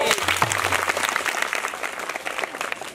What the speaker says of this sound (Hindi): भाई जमूरे के नाम की ताली तो बज गई